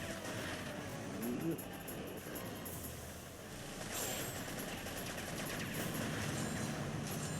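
Firework weapons firing in the SkyGunner video game, a dense, continuous barrage of bursts and crackles that holds steady throughout without pause.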